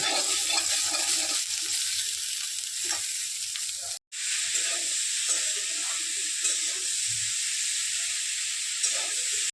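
Chilli mushroom sizzles hard in a hot pan, a steady loud hiss with scraping stirring sounds, broken by one momentary gap, with no talking.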